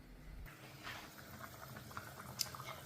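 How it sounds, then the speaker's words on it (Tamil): Pot of seeraga samba biryani boiling on a stove: a faint continuous bubbling and gentle liquid patter, close and low in level, with no talking. "இன்னும் கொதிச்சிக்கிட்டு தான் இருக்குது"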